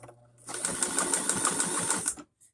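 An older sewing machine stitches a pillow in a fast, even mechanical chatter, starting abruptly, running loud and close for about two seconds, then stopping.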